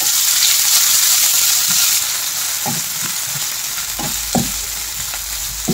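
Small pieces of boiled potato hit a hot tempering and fry with a loud, continuous close-up sizzle, punctuated by a few soft clinks and scrapes of stirring.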